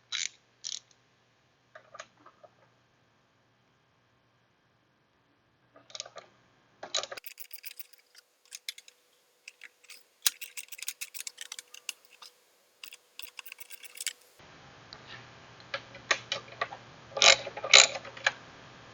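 Metal clicks and ratcheting ticks from a wrench loosening three 10mm nuts on the intake manifold of a Chevy Trailblazer, in scattered close bursts with quiet gaps and a denser run of clatter toward the end.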